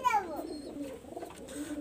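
Pakistani highflyer pigeon, a female, cooing softly close by in a short burst, with faint human sounds in the background.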